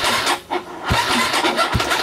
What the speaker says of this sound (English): Oh, she doesn't even want to turn over.